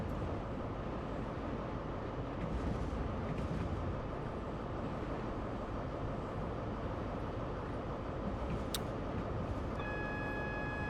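A Class 43 HST train running between London Paddington and Reading in Train Sim World, a steady low rumbling drone of engine and rails, constant and moderately quiet, with a brief high tone and faint cab beeps near the end.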